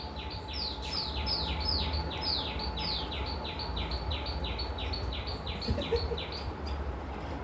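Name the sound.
birds singing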